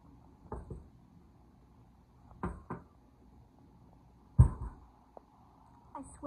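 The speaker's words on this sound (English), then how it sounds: "Something just knocked." Several faint knocks or thuds come from somewhere in a quiet house during a game of hide and seek, spaced a couple of seconds apart, each a single dull tap heard at a distance.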